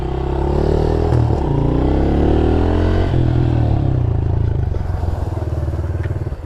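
A 2020 Honda CRF110 dirt bike ridden on back streets, its small engine droning loud and close with rising and falling revs as it pulls away.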